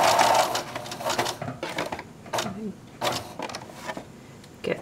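A sewing machine stitches a quarter-inch seam on a small purse pocket, running in short, uneven bursts of rapid mechanical whirring with brief pauses between, close and moderately loud.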